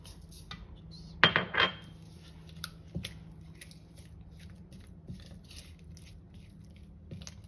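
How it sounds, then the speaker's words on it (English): A utensil mixes light cream cheese with sugar in a bowl, giving a scatter of clinks and scrapes with one louder clatter of metal against the bowl, then soft intermittent taps in a quiet kitchen. "So you want to mix the cream cheese with the sugar."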